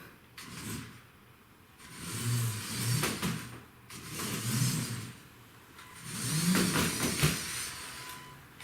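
A remote-control Lego Technic dirt buggy drives about. Its small motor gives several short bursts of faint whirring, separated by quieter gaps.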